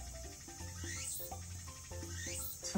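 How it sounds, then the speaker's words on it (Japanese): Cicadas chirp in summer outdoors, a steady, dense insect drone with repeating pulsed and rising buzzes that sounds fairly close and continues throughout. "めっちゃめちゃセミが鳴いてる"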